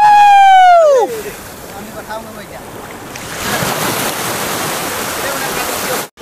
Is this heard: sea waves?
yes